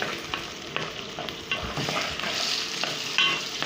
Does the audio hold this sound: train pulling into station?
no